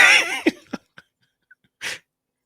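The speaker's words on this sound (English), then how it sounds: "Ian, do you have to sneeze right now?" A person sneezes in a few sharp, close bursts. The sneezes follow a moment of voice and are separated by short silences, with a final breathy burst.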